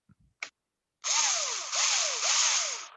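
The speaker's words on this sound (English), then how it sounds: "So every time you're going to use the drill, just mute yourself." A power drill whirs over a voice call, following a few small clicks, in three long loud bursts that rise and dip in pitch as the motor strains.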